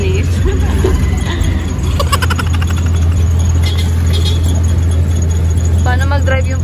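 Steady car engine hum and road rumble from inside a moving car during a family drive, loud and continuous, with some background talk and a brief squeal near the end.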